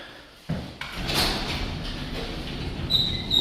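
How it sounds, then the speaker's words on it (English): Rumbling slide of a house's garage door moving along its track as it opens and closes, starting with a clunk and ending with faint squeaks. "Garage door opens and closes fine."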